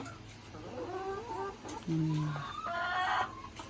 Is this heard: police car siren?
no